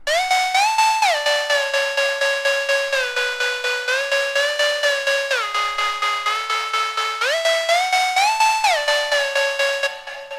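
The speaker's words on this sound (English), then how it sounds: "another Synth Master lead that I auto-panned with, instead of a sine wave, I did it with a saw wave" A bright, buzzy Synth Master saw-wave lead, auto-panned with a saw wave, plays a melody of short plucked notes in a steady rhythm, each note decaying quickly, with no voices.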